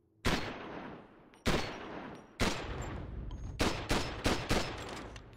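Gunfire in Call of Duty: Modern Warfare Remastered. Six loud, close shots with heavy booming tails, spaced about a second apart at first and then coming quicker in a tight cluster, with no talk over them.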